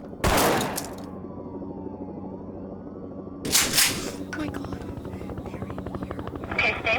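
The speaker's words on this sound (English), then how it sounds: "Fine, I'll start shooting anyway!" Gunfire in the shooting game DC Zero Hour, set in a school. Two loud, short bursts of shots cut through a steady droning hum, a few seconds apart.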